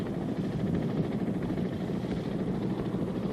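Steady rumbling drone of a CH-53 military helicopter, with a fast rotor throb under broadband engine noise, constant and fairly close.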